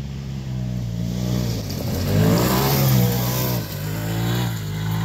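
A 2017 Polaris RZR XP 4 Turbo off-road vehicle pulls away, its engine rising in a steady rev and holding loud and close, with no talk over it.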